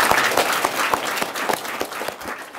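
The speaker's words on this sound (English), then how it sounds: "can we give the adults in the room a huge round of applause as well?" An audience at a school family-involvement gathering applauds the adults in the room, with dense, steady clapping that is fairly close and continuous throughout, with no talk over it.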